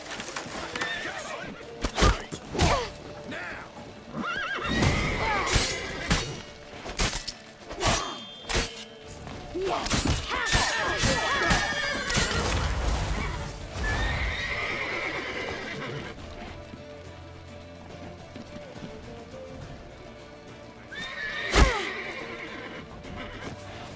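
In the video game The Witcher 3: Wild Hunt, a horse neighs and whinnies loudly amid clopping hooves, thuds and action sounds, with another sharp whinny near the end.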